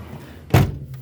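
A car door shuts with a single solid thunk, short and close, against quiet background hum.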